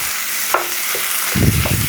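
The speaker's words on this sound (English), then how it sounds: "we're going to take 1 pound, 463 grams of ground beef, and we're going to brown it into a skillet on medium high" One pound of ground beef browns in a skillet over medium-high heat, giving a close, steady sizzle and crackle with brief scrapes of stirring.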